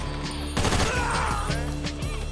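Gunfire in Grand Theft Auto V, a rapid fusillade of loud, close shots cracking in quick succession over a constant background, with no clear talk.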